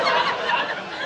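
A short burst of a stand-up comedy audience squawking and cackling together, voices imitating seagull cries in a noisy, overlapping chorus.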